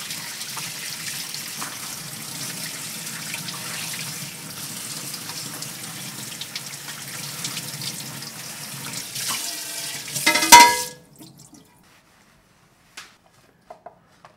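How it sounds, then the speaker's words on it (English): Clam meat rinsed under a running kitchen tap: a steady broadband rush of water into a sink for about ten seconds, rising briefly before the flow shuts off, then near silence with a few faint knocks. "Clam meat is just very clean, but I like to wash it just quickly rinse."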